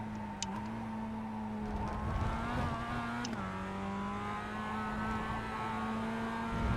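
A Mazda MX-5 race car engine drones at full throttle on track, a steady loud buzzing tone with a brief pitch shift as it shifts or changes load, heard from inside the car.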